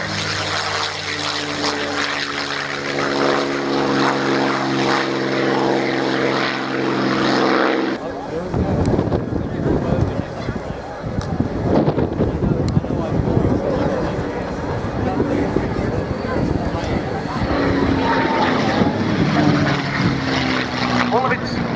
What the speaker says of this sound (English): Rolling now, the North American P-51D Mustang.